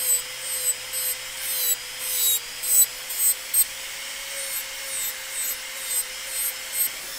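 An electric nail drill files old gel product off a nail, a steady high whine with repeated short bursts of gritty rasping as the bit touches the surface, close and without speech.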